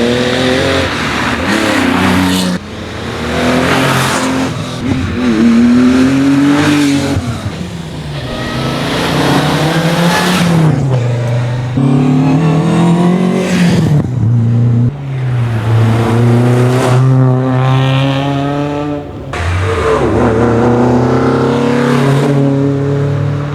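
An Opel Manta rally car departs at a historic rally in Barbières, its engine revving hard through repeated rising gear pulls, loud and close at first and then fading as it drives away.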